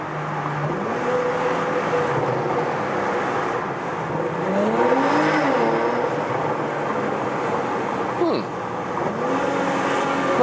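Porsche Cayenne or Macan SUV engine revving inside a tunnel with the windows lowered, loud echoing exhaust rising and falling through several revs as the vehicle drives on, steady road rumble underneath.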